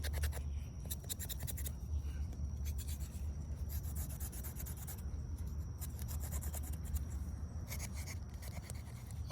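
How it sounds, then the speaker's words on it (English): A tool scrapes the bark of a pecan tree trunk down to the green cambium layer, making a steady, continuous rasping and rubbing that runs throughout with no speech. "Now we're going to scrape this trunk so there is no connection in the cambium layer at all."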